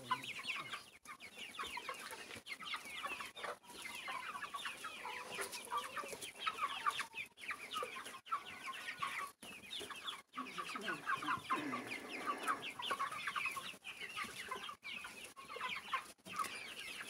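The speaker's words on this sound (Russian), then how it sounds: "В общем, гуляют наши курочки." A flock of young broiler chickens clucks continuously, with overlapping low calls and chatter throughout, fairly quiet and steady, like birds pecking around a yard.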